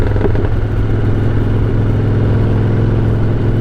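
A 2006 Harley Davidson Softail Deluxe motorcycle rumbles steadily while being ridden, its deep engine drone loud and continuous throughout with no pauses.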